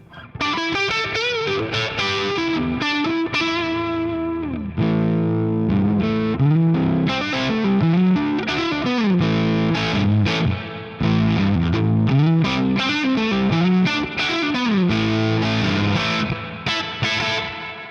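An Ibanez RG550 Genesis electric guitar plays alone on the neck pickup with a clean tone, mixing strummed chords and single-note runs in a continuous, loud passage with no voices.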